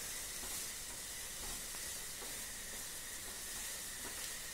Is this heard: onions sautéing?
yes